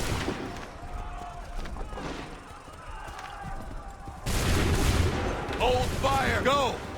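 Musket volleys crack out in Assassin's Creed 3 during a battlefield firing line: muffled shots come first, then a loud close burst of gunfire rolls on, and shouted commands cut through the din.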